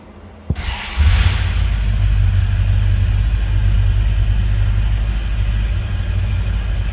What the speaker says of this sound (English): Let's go ahead and fire that 413 up